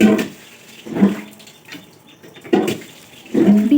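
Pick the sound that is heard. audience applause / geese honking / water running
water running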